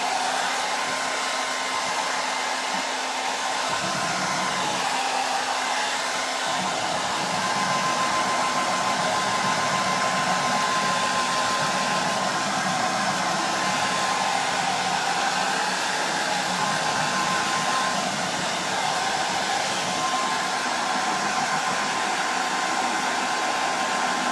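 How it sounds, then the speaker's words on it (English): A hair dryer blasts steadily and loudly at close range over drying copper leaf stencil work, a constant whooshing roar with a faint motor whine that runs without a break. "I'm just going to grab my hairdryer."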